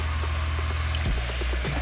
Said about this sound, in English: Put a little bit of water in,